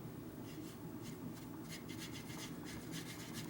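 Knife blade steel from a Demko AD20S stroked back and forth on sandpaper for polishing, a faint, close, dry rubbing scrape with soft repeated strokes.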